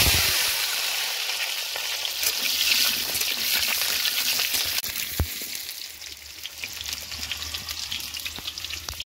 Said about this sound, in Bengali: তার আগে একটু আলুটাকে ভেজে নেব।